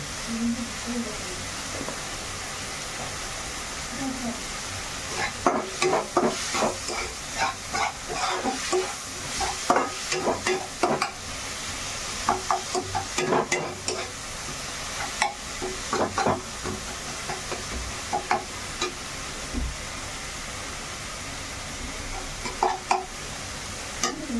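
Cluster beans fry and stir in a pan, giving a steady sizzling hiss with repeated scraping and stirring clatters over the middle stretch, while a person speaks over them.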